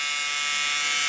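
A knockoff Hummingbird rotary tattoo machine fitted with a cheap Swiss motor runs in a steady, smooth, high electric whir, close up and continuous with no pauses.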